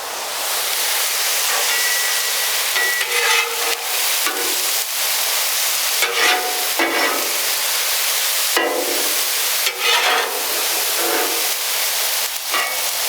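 Steak and onions sizzle steadily on a Blackstone flattop griddle, a loud constant hiss broken by repeated spatula scrapes and clacks as the food is pushed around, with no talking.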